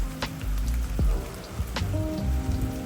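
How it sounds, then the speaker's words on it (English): Steady rain falls on a surface along Highway 101, a dense, continuous patter with scattered drop impacts and a low rumble beneath, heard close and fairly loud throughout. "Beautiful rain."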